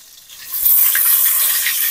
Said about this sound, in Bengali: একটু গোশটা ভেজে নেব